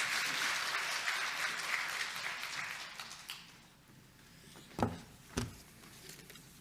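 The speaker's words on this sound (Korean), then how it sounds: "우리 목사님 또 오늘 또 힘내시고 마음껏 말씀 전해달라고 박수로 모시겠습니다." A church congregation applauds to welcome the pastor to the pulpit, the broad clapping fading out over a few seconds, followed by a couple of isolated thumps.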